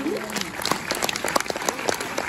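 Audience in a Montreuil cinema applauding a guest at a film screening, close and lively with distinct individual claps in an irregular patter, and a brief voice at the start.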